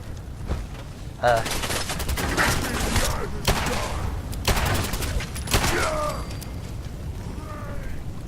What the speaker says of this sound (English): I think I'm being shot at from behind.